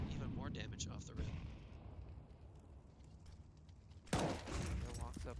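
Grenade blast in a competitive online shooter match, a sharp burst rising suddenly near the end out of steady battle din, with a caster talking over the earlier gunfire.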